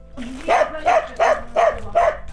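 A dog in a Ukrainian village barks five times in a steady rhythm, each bark clear and fairly close, with quiet gaps between them.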